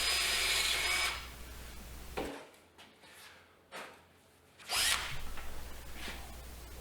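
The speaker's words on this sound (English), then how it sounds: "I pre-drill through the metal hoops with a 9/32 inch drill bit." A power drill with a 9/32 inch bit pre-drilling through a metal hoop on a wine barrel, a loud whine that cuts off, then short bursts of drilling and handling noise before the motor spins up again.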